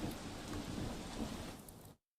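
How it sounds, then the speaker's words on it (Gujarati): Heavy downpour drenching farm fields in Amreli, Gujarat, a dense steady hiss of rain with low rumbling beneath, fairly faint and continuous before cutting off abruptly near the end. "ધોધમાર વરસાદ ખેતરો આપ જોઈ રહ્યા છો શું હાલત થઈ રહી છે"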